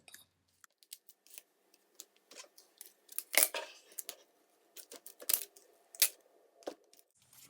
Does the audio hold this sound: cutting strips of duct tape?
yes